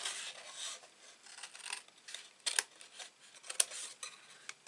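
Paper card is cut for a Stampin' Up box step card, faint close rasping and scraping strokes in short irregular bursts with a couple of sharper clicks.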